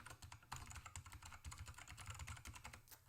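Quick typing on a computer keyboard, close and faint, with a steady run of light key clicks and occasional heavier keystrokes and no talking.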